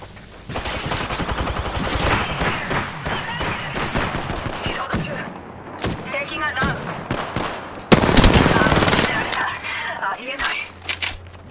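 Dense gunfire in the Apex Legends video game: sustained rapid automatic bursts and heavy shots, loud and close, with a sharp louder volley midway, while voices talk over the shooting.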